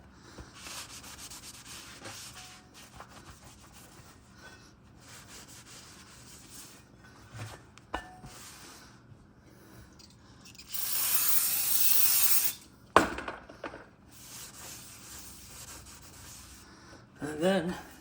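A cloth rubs and wipes Chevy Camaro brake parts in soft, intermittent scrubbing strokes, with one louder hissing burst and a sharp knock partway through.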